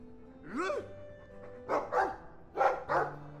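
A dog barks in the video game Dragon Age 2, three separate double barks with yippy upward-sweeping tones, moderately loud and alone, without talk over them.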